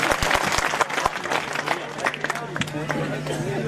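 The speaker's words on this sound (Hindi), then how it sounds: "एक बार जोरदार भाई हरिराम गोपालपुरा के लिए तालियां बजा दीजिए" An audience at a Hindi poetry gathering, a kavi sammelan, claps in a loud burst of applause that fades into scattered clapping and chatter, with a voice talking over it.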